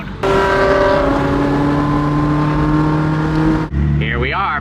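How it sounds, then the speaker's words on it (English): A V10 BMW M5 with a loud aftermarket exhaust roars close by, its engine note rising through a sustained rev before cutting off abruptly, followed by a brief squeal and rumble. "Ooh, a V10 M5 with an exhaust."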